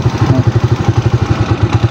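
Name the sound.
motorcycle engine running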